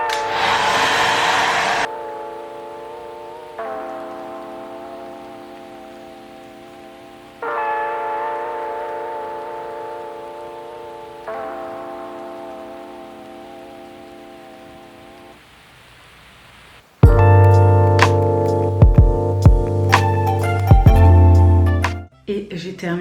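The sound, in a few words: hair dryer drying curly hair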